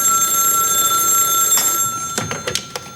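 An old telephone bell rings in a continuous loud trill and then breaks off, followed by a few clunks as the receiver is picked up, in a 1978 police station scene.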